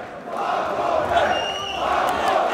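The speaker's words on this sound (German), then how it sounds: "Jawohl, das Publikum steht Kopf, komplett. Lautstarke Magomed-Rufe." A standing boxing crowd at a Grand Prix semifinal roars and loudly chants the fighter's name, Magomed, in a dense, rising wave of voices that swells toward the end.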